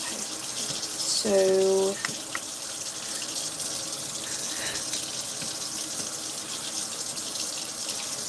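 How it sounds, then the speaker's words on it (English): Hot water gushing loudly from a tap into a sink, a steady rushing stream that runs the whole time, with a brief voice and a short tonal squeak near the start. "I'm sorry if the water is really loud. I need the hot water."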